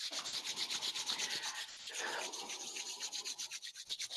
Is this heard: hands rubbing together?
yes